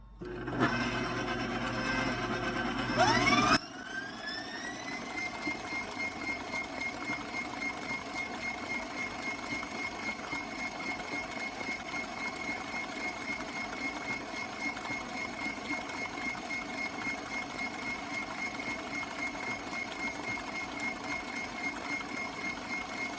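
An electric mixer beating blueberry peach cobbler batter, a louder burst of motor noise at first that settles into a steady, continuous whirring hum with a thin whine on top.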